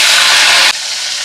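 A large chopped onion hits two tablespoons of hot white oil with a loud, close, bright sizzle that holds steady, then suddenly drops to a softer, quieter frying hiss.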